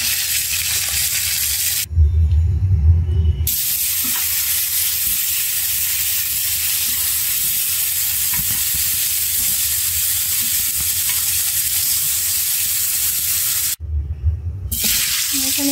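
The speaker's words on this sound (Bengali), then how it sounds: "এখানে কুমড় ভাজতেছি, কুমড়ের মশলা মেখে নিয়েছি" Spiced pumpkin pieces coated in salt, turmeric and chili fry in a pan with a steady, loud sizzle, broken by two short pauses; no voices present.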